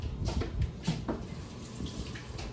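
Tap water running steadily while a cucumber is washed under it, a soft continuous splashing hiss at close range, fairly quiet, with no talk.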